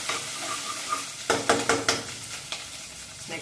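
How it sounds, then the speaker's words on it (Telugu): Oil sizzles steadily in a pan while cooking mutton fry, close and quiet, with a series of sharp clinks and scrapes from stirring in the middle. "కొంచెం పచ్చివాసన పోయేదాకా వేపండి."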